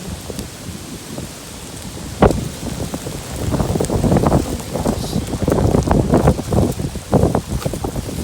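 Stormy wind with hail in Rhu, Scotland: steady roaring gusts buffet the microphone, with a sharp gust about two seconds in and louder rattling bursts continuing through, while a person briefly exclaims.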